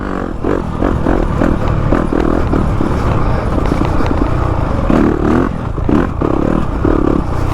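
A Yamaha YZ250FX four-stroke dirt bike is ridden off-road, its engine droning steadily with rising and falling throttle pulses and clattering, scraping sounds from the terrain throughout.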